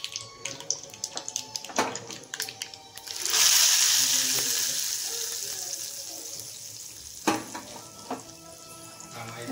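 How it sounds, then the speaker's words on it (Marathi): Mustard seeds crackle and sizzle in hot oil as a tempering is made for dosa chutney, a sudden loud hiss that slowly fades with scattered pops and clinks around it, close up in a home kitchen. "मी व्यवस्थित तडतडून द्यायचं आहे. मोहरी व्यवस्थित फुटली पाहिजे."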